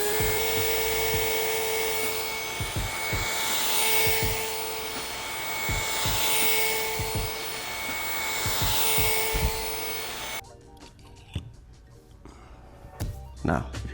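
A spinning gyroscope wheel whirs loudly and close with a steady high-pitched whine and hum for about ten seconds, then stops abruptly, leaving faint knocks and handling sounds, with a person talking over it.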